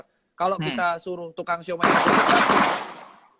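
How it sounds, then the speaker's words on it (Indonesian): Someone speaks briefly, then a loud burst of gunfire follows, a dense crackling volley that fades out over about a second and a half. "maaf itu suara tembakan"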